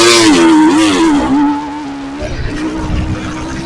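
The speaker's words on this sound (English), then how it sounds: "Burning that clutch up." A motocross bike engine revs hard while the rider slips the clutch at a motocross track, a loud close whine rising and falling, then dropping to a rougher, lower burbling idle.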